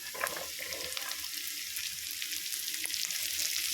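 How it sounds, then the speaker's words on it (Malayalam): Chopped vegetables for a white sauce pasta sauté in a hot pan, giving a steady close sizzle and crackle with the occasional scrape of stirring, and no talking. "ഇതൊന്ന് ലൈറ്റായിട്ട് വഴന്ന് വരുമ്പോൾ അരിഞ്ഞ് വെച്ചിരിക്കുന്ന പച്ചക്കറി ചേർത്ത് കൊടുക്കാം."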